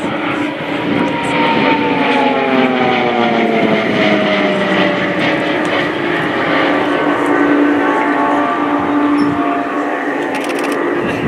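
Swiss Air Force PC-7 propeller aircraft flying in a formation display at RIAT 2018, a loud sustained engine drone with shifting pitch as the planes pass, steady and continuous throughout.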